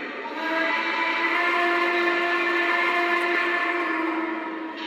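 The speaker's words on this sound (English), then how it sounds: "we are about to listen to a ton of different whistles and horns from a variety of different locomotives" A steady, sustained model train locomotive whistle holds one harmonic chord for nearly five seconds, loud and unbroken, fading slightly at the end.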